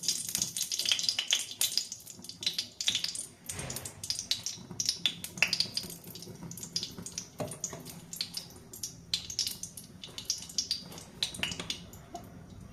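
A tablespoon of ghee heats in a kadai over a low flame, giving a close, crackling sizzle with bursts of spattering and brief stirring clatter, and no one speaking.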